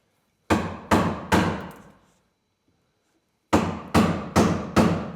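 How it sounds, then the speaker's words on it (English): Sharp mallet blows on a chisel cutting a mortise in a wooden workbench, a quick burst of three strikes, a pause, then four more evenly spaced strikes, close and loud. "now we're going to get to chiseling here"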